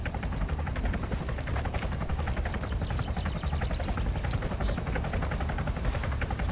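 A helicopter flies in the video game Arma 3: Breaking Point on the Chernarus map, its rotor chopping loudly and continuously throughout, with no talk.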